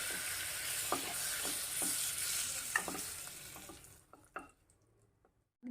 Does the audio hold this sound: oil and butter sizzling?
yes